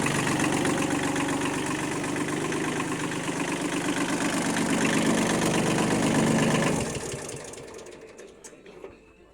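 A Kubota B1500 tractor with a 15-horsepower three-cylinder engine and 4WD idles with a steady, loud, chugging rumble for about seven seconds, then shuts off and fades to quiet.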